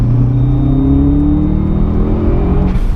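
A modified Subaru Impreza P1 pulling hard in third gear, its engine note rising steadily as it accelerates, loud and close from inside the car with no talking.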